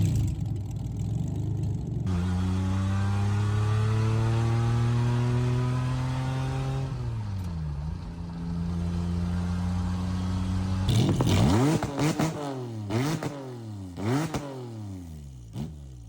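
A car engine fitted with a supercharged 3800 idles with a deep rumble, swells into a long sustained rev, settles, then snaps through several quick, sharp throttle blips, close and loud.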